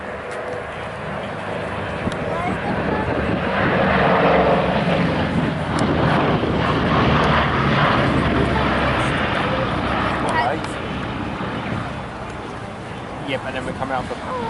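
Griffon-engined warbird flying a display at the Duxford summer airshow, a broad engine rumble that builds to a peak mid-pass and then eases, with wind noise and people talking faintly underneath.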